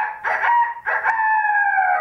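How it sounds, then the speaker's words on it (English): A rooster crows close by, a loud, drawn-out call rising then holding its pitch, heard alone without other sounds. "Again came that ringing crow, and Peter dropped in front of them."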